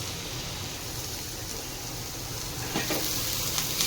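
Food fries in a pan on a home stove, a steady, close hissing sizzle that holds evenly throughout, with a few faint clinks and crackles near the end and no voices.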